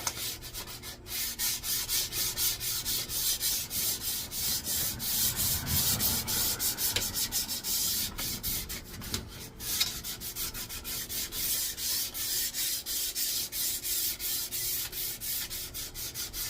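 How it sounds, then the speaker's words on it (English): Fine 220 grit sandpaper rubbing steadily along a Mexican hickory axe handle, a close, continuous scratchy sanding with rhythmic back-and-forth strokes and no talk. "now we're going to take a nice fine 220 grit sandpaper and get her nice and smooth"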